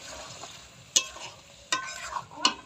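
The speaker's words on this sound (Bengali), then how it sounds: "এই যে আলু মশলার ইয়েটা কষানো হচ্ছে" Potatoes frying in a pan with onion, cumin, chilli, garlic and ginger, stirred in three sharp scraping strokes over a low, steady sizzle.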